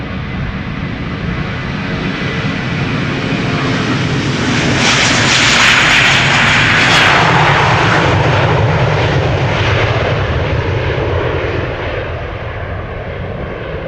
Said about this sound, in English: This is Finnair flight 1302 to bloody Helsinki. It's an A321.